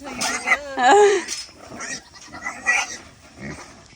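Goats on a farm with a pig nearby, a loud wavering bleat near the start followed by scattered softer bleats and grunts.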